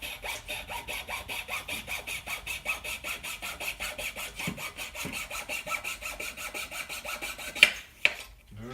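A wooden arrow shaft clamped in a slotted cutting jig is sawn to length with a fast, steady back-and-forth rasp, close and even, ending with a couple of sharp knocks as the cut finishes.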